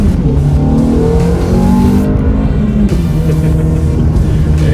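A Ferrari F430 with a 490-horsepower engine accelerates hard, its revs climbing in a loud, continuous, close-up roar that rises in pitch, dips briefly, then builds again.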